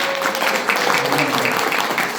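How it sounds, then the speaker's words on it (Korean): Audience applause filling a hall at an event honoring a doctor, a steady dense wash of many hands clapping at moderate loudness throughout, with a faint tone and murmurs underneath. "감사의 큰 박수 한번 더 부탁드리겠습니다"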